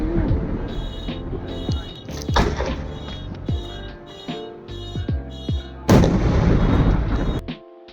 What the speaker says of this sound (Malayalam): അങ്ങനെ ഞങ്ങൾ കുറച്ച് നേരം ഫയർ വർക്ക്സും കാര്യങ്ങളൊക്കെ കണ്ട്